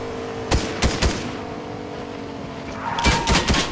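Gunfire in Fortnite, a few separate sharp shots early on, then a pause, then a quick cluster of shots, fairly close and loud with no talk.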